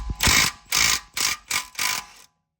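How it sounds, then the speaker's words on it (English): An impact wrench works the 18 mm front strut pinch bolt on a 2003-2008 BMW Z4 E85 in five short, loud, close bursts before falling silent. "So I'm going to take my impact and I'm going to take it out."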